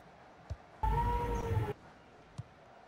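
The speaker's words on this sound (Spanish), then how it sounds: "Ese gato es cabra." A cat meows once, a fairly loud, drawn-out tonal cry lasting about a second over quiet room noise, with a couple of faint clicks before and after.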